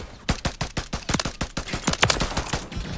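Rapid bursts of gunfire from a Call of Duty MW3 match, sharp repeated shots in quick succession across the whole stretch, loud and close with no talk.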